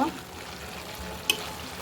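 Chicken bhuna khichuri with green chilli and coriander gets a short stir in the pot over a soft frying sizzle, with one sharp scrape of the spoon.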